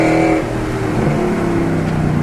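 A Mercedes W204 C63 AMG V8 with LT headers and a straight-piped exhaust pulls away under hard acceleration, its loud, rough engine note rising steadily and holding close and continuous throughout.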